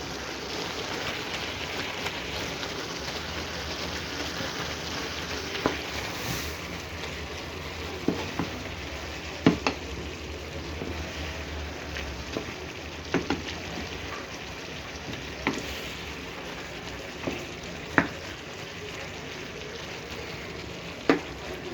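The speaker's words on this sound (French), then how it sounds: "je laisse tout ça mijoter doucement, tout doucement" Chicken livers and legumes seasoned with cumin and paprika simmer gently in a pan, giving a soft, continuous sizzle and bubbling with occasional small pops and clinks throughout.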